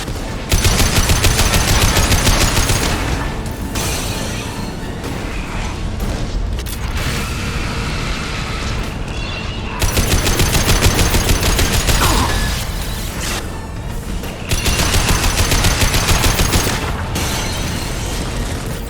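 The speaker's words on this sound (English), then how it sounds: "Firing anti-ship batteries at collector vessel." Heavy cannon fire from Guardian anti-ship batteries shooting at a Collector vessel in Mass Effect 2, loud sustained bursts of booming shots and mechanical clatter that pause and resume in waves.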